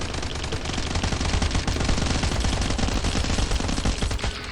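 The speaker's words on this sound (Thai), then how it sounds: "หรือว่าเราจังหวะดีๆแล้วก็แล้วก็ยิงหุ่นยนต์ทิ้งเลย นี่อันนี้ถ้ายิงก็ยิงได้นะ" Rapid automatic gunfire from Last Island of Survival, shots fired at a robot enemy, rattling continuously at a loud, steady level through the whole stretch with no voices.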